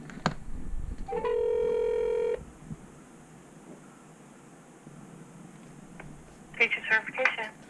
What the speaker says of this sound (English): I'm going to phone them right now and see what happens